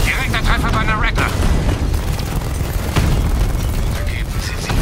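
A Batmobile cannon shell hits and blows up a Rattler tank in the video game Batman: Arkham Knight, a loud, dense roaring burst of explosion and rumble with crackling debris that carries on throughout.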